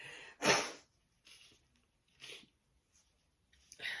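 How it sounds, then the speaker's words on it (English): A single sharp hay fever sneeze bursts out, followed by a few softer breathy sniffs and exhales in a quiet room. "I'm going to sneeze again"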